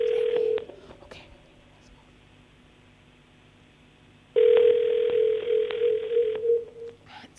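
A telephone line placing a call to a radio contest caller sounds a steady electronic tone, falls quiet, then returns with a longer tone, clear and close with no voices.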